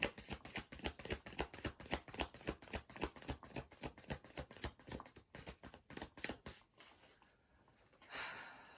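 A deck of tarot cards being shuffled over and over, crisp rapid riffling bursts close by, then a softer rustle and a brief hiss at the end.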